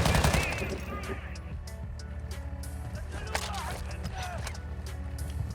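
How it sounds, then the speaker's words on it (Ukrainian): Rapid automatic gunfire from allied players in Call of Duty Warzone 2.0 DMZ rattles through the scene, loud bursts at first and then steadier mid-distance shots over game ambience, with a voice talking in the middle. "це наші стріляють"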